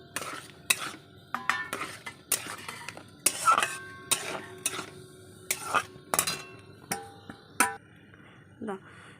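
A spoon scrapes and clinks around a pot of milk and grated coconut for dudh puli pitha, in a steady run of close, uneven stirring knocks with short pauses between.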